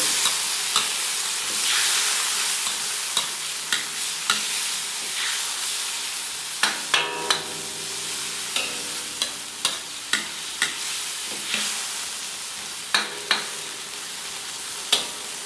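Chicken sotanghon with green onions sautés in a pan, giving a loud continuous sizzle and hiss with repeated sharp clinks and scrapes of a spatula stirring near the end.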